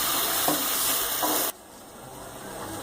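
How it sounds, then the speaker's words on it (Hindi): Tomatoes sizzle with onions, ginger and garlic in a pan, a loud bright hiss with stirring scrapes that drops abruptly to a quieter simmering fry partway through. "टमाटर डाल के इसको अच्छी तरह से भून लेंगे"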